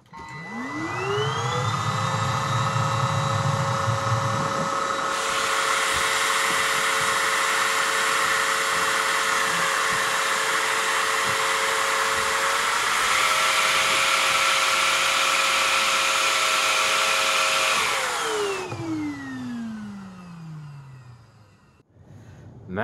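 A MOOSOO XL-618A vacuum cleaner spins up and runs at low speed with all filters fitted, giving a loud, steady motor whine with a rising pitch at start-up, a small step up midway, and a falling spin-down at the end.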